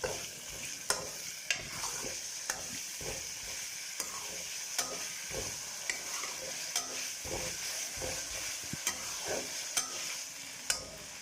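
Ketchup is stirred into a frying mixture for vegetable samosa filling, a steady hiss of sizzling broken by regular scrapes and taps of a spoon against the pan.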